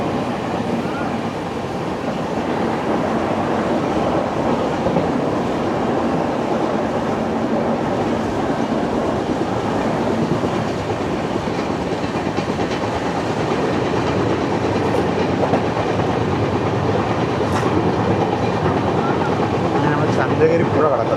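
The Gandhidham-Tirunelveli Humsafar Express crossing the Chandragiri river, heard from on board as a loud, continuous rumble with rhythmic wheel clatter throughout, and a voice talking over it.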